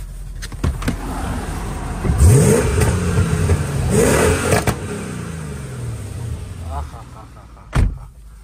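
Mercedes 211 with a supercharged 5.5 V8 revving hard, the engine climbing and falling in two loud surges, then a sharp bang near the end, with some talk in the background.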